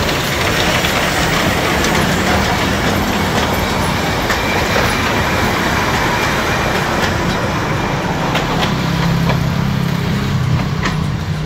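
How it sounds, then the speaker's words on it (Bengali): Darjeeling steam engine train passing close by, a loud continuous rumble with rhythmic clatter of wheels and a hiss of steam running steadily throughout without voices. "চলো, চলে গেল স্টিম ইঞ্জিন।"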